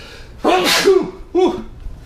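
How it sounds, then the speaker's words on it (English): Two loud sneezes close by, the first sharp and forceful, the second shorter and following about a second later. "excuse me, I had to sneeze"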